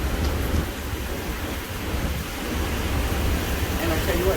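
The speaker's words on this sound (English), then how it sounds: "this is horizontal rain" Horizontal rain driven by Hurricane Ida's winds pounds down in a dense, unbroken roar of loud, close broadband noise with no pauses.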